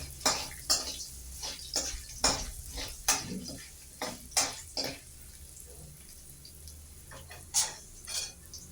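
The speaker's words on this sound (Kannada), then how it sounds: "ಈಗ ಎಲ್ಲವನ್ನು ಮಿಕ್ಸ್ ಮಾಡ್ತಾ ಇದ್ದೀನಿ" Turmeric being stirred into a puliyogare rice mixture in a pan, a series of distinct scraping and tapping strokes of a spoon against cookware, irregular and close, with a faint sizzle beneath.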